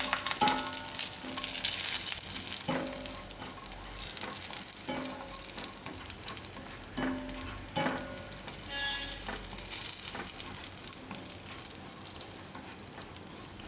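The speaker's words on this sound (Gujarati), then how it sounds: "અને આમાં આપણે કિસમિસ નાખી દઈશું, એને થોડીક શેકી દઈશું." Raisins roast in a pan for pava laddu, a Gujarati sweet, making a continuous close sizzle with light scraping stirs and small clicks of a utensil throughout, and no voices.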